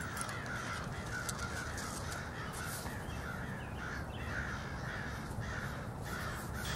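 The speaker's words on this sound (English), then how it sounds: "Crows don't really like owls, and they will caw repeatedly to harass owls when they find one." Crows caw repeatedly and harshly as they harass owls, a continuous outdoor chorus of overlapping calls at moderate distance with no talking.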